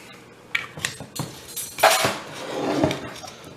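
A utensil stirs chicken fried rice ingredients in a bowl, with close scrapes and clinks against the bowl in a short irregular burst.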